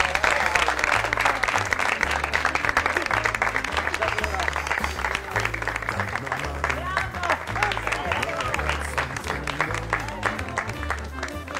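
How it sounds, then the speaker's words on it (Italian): A crowd at a dance event gives warm applause as the mayor arrives, steady dense clapping throughout, with music playing underneath. "un caloroso applauso."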